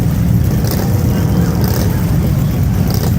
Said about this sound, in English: it's the thundering roar of powerful Harley Davidson engines revving together.